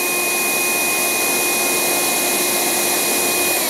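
A Domo DO211S cordless handheld vacuum, 14.4 V, with an electric brush runs continuously, a loud steady whine and rushing suction with a constant high motor tone and no pauses or talking.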